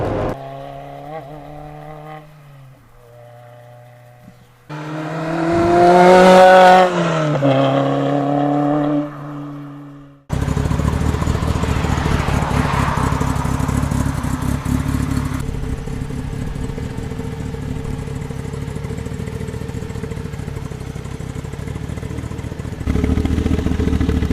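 Lotus Elise Sport 160 driving over a bumpy road, heard from inside the cabin with a steady engine drone, road rumble and occasional clatter, strong and continuous throughout.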